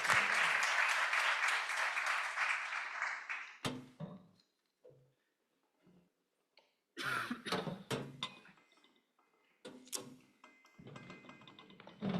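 A conference audience applauds its climate action panelists, a loud, dense burst of clapping lasting several seconds before it breaks off, followed by scattered coughs, knocks and shuffling in a quieter room, with a brief second flurry of claps and noise.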